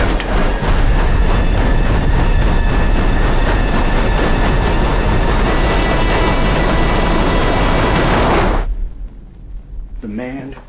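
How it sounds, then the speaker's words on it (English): A train starts up and rumbles with a loud, dense, continuous roar that fills most of the stretch and then cuts off abruptly, followed by a moment of speech. "I hear a train starting up in the background."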